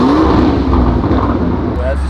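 A Lamborghini Urus engine in loud Corsa drive mode, droning and revving steadily at close range under a voice talking throughout.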